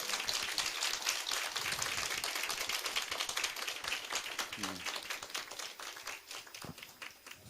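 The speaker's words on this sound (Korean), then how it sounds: "박수로 하겠습니다." Dense, steady applause from a church congregation during a Christmas Day Sunday service, many hands clapping at once and sustained for the whole stretch at an even level.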